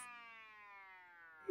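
A toy ambulance's thin electronic siren tone sounds steadily and faintly, ending with a short loud click.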